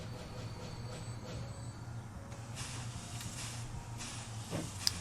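A train in Transport Fever 2 slowing down: a low, steady rail rumble with a faint hiss and soft clanks, quiet and continuous, easing off slightly toward the end.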